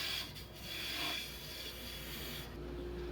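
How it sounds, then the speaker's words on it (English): Easy Wood rougher cutting a tenon into a maple burl blank on a lathe: a steady, close rasping scrape that rises and eases slightly, carrying on without a break for about three seconds. "So using the Easy Wood rougher here to make the tenon"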